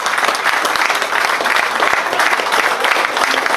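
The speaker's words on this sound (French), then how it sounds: "On peut les applaudir bien fort" An audience at the Cuon agricultural fair gives the restaurant staff a burst of loud, dense clapping that holds steady throughout, with no voices rising above it.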